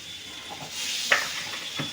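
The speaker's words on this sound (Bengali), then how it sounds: "কড়ার মধ্যে বাটার দিয়ে দিলাম" Butter sizzling in a kadai, a soft steady hiss of frying fat with faint stirring clinks and scrapes, close and moderately quiet, no voices.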